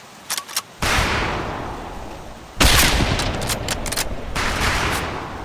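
Rifle volley at a firing range in the Medal of Honor: Pacific Assault video game: a few sharp clicks, then two loud bursts of gunfire with rolling echoing tails, the second blast followed by sustained crackling reverberation.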